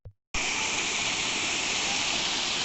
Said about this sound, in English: It's a small waterfall, but it looks so nice.